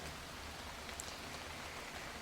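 Rain falls steadily on a chilly morning, a soft even hiss of drops with an occasional closer tap. It stays faint and unbroken, with no voices.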